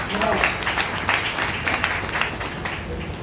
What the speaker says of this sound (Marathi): त्याच्याबद्दल एक टाळ्या वाजवा